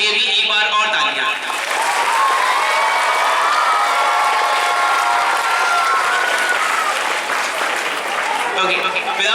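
An audience at a school Independence Day program applauds loudly and continuously, with cheering and children's shouts mixed into the dense clapping for several seconds before it fades.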